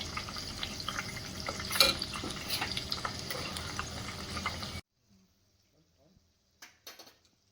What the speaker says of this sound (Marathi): आता अख्खा लसूण आणि कोथिंबीर मस्त तळून घेतली ना की त्या पॅलमधलं